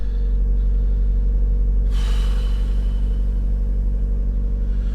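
Car called Scarlett idling early in the morning while warming up before an MOT: a deep, steady engine rumble close by, with a brief hissing burst partway through, no voices.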